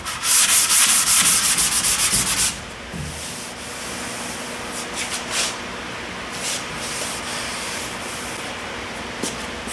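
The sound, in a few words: sanding a car's rear quarter panel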